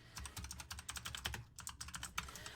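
Someone types a search on a computer keyboard: rapid, close, crisp key clicks in an uneven stream with one brief pause midway and no talking.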